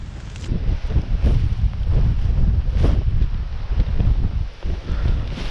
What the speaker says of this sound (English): You can see how windy it is.